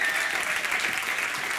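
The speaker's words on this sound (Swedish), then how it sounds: "Ett stort grattis och en stor applåd" Sustained audience applause fills a Swedish awards gala, a dense, even wash of many hands clapping at steady loudness with no pauses.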